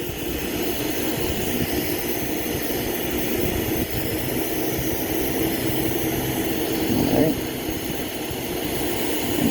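A glassworking torch flame roars steadily and loudly while a whole section of a glass cross is heated evenly to keep it from cracking, a constant broad hiss throughout.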